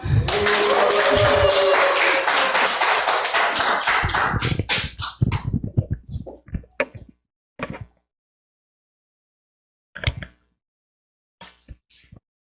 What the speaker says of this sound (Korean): 힘찬 박수로 맞이해 주시면 감사하겠습니다.